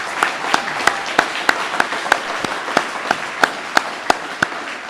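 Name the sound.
audience applause for transit operators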